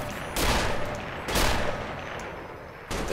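An overpowered weapon in Fallout: New Vegas fires in loud, close bursts. Three heavy blasts land about a second apart, and each one leaves a rumbling tail.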